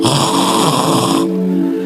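A voice imitates a wife's loud snoring with a long, rough, buzzing snore, loud and close, ending abruptly into a lower sustained tone.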